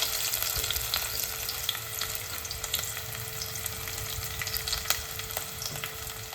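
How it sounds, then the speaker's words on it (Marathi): Onion sizzling steadily in hot oil in a pan, a continuous close crackling hiss with scattered sharper pops throughout, no voices. "तेल छान असं गरम झाल्याबरोबरच आपण ह्याच्यामध्ये हा जो कांदा आहे हा घेणार आहोत"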